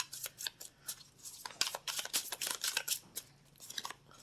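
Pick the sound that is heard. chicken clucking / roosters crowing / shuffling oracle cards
shuffling oracle cards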